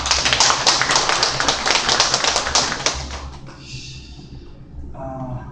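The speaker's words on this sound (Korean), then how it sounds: "박수로 환영하겠습니다." A small gathering claps in welcome for a man who installed the amplifier, quick distinct hand claps in a lively burst over a low hum, then tapering off into quieter scattered sounds.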